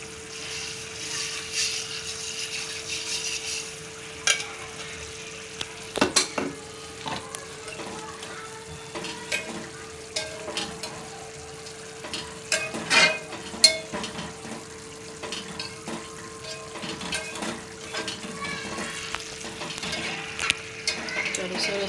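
Sev tomato curry being stirred in a pan, a steady low sizzle with soft scraping and occasional clinks of a utensil against the pan, close and continuous without talk.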